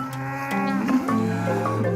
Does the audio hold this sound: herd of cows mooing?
yes